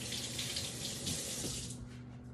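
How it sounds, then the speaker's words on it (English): Tap water runs steadily into a sink while hands are rinsed under the stream in a kitchen, close and continuous for a couple of seconds. "let me just rinse my hands"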